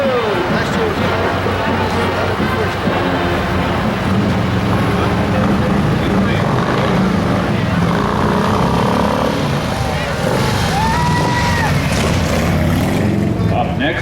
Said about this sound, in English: Up next is the Motorcycle Patrol.